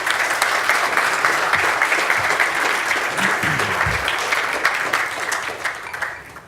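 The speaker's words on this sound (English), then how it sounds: "Let's give me a round of applause." An audience at a tech event applauds, a steady, even roar of clapping that holds for several seconds and then tapers off near the end.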